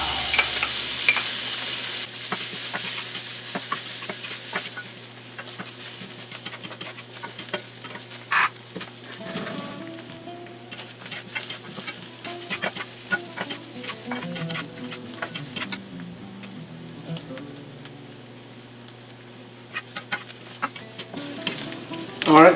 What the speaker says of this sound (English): about now the onions are getting fairly translucent